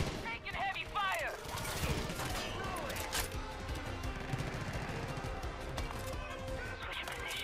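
Dense bursts of automatic gunfire and shooting fill a Far Cry 5 firefight, loud and continuous with mechanical clatter, while a voice talks over the chaotic battle noise.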